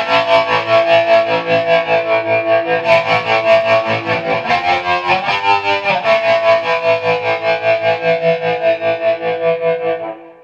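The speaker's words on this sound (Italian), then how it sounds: "Un tremolo molto, molto hard con sempre il chorus sottofondo" Distorted electric guitar runs through a Nova Modulator set to a hard tremolo with chorus underneath, loud and close, its sustained chords pulsing in a rapid, even chop for about ten seconds before cutting off.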